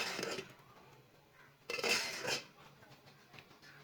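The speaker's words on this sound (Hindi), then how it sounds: "इसे दूसरे बर्तन में डाल लेते हैं।" Boiled potatoes tipped into another pot in a home kitchen, metal utensils and pots clattering in a few bright bursts, fairly quiet and close, with no talk.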